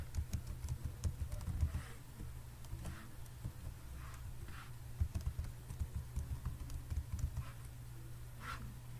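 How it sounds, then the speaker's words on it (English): Soft keystrokes on a computer keyboard while an email address is typed, faint irregular clicks in short bursts over a low hum. "Then you have to type your email."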